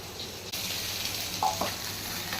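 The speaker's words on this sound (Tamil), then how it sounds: "ஃபைனல் டச்சா முட்டை போட்டுக்கிட்டு இருக்கா அக்கா" An egg frying in a hot pan during home Sunday cooking gives a steady, close sizzle, with a brief stirring scrape partway through and no talk.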